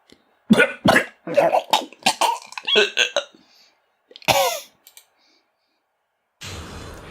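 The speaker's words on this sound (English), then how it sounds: "These coughs are just going to get gradually worse." A run of harsh, close coughs and throat-clearing bursts from the video game Phoenix Wright in uneven clusters, pausing, then one more cough before a low rumbling noise starts.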